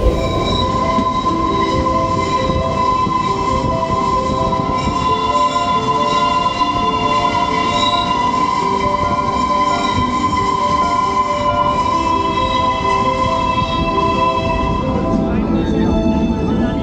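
A train pulls out of Kandaghat station toward Shimla, a loud steady rumble of rolling carriages with squealing wheels and a high sustained whine throughout.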